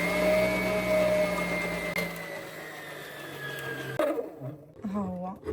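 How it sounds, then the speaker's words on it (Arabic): Electric mixer beating sugar and vanilla for a birthday cake batter, a steady whirring motor hum close up that winds down and stops partway through, followed by a voice speaking over quieter kitchen background. "واجيو نضربوهم في الخلاط"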